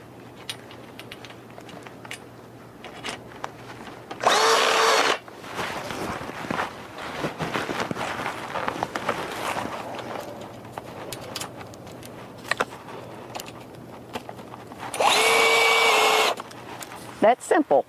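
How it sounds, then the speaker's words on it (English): A power drill drives screws into low tunnel hoophouse connectors in two loud, short whirring bursts. Between them a person talks, moves around and handles parts outdoors, with birds faintly audible. "now, got to put these screws in here."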